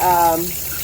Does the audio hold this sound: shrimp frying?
no